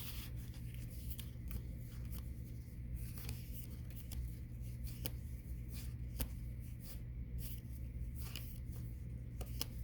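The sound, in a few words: cards being searched through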